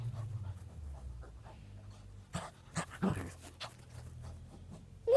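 A dog panting and whimpering nearby, soft rhythmic breaths with a few sharper snuffs and short whines, fairly quiet throughout.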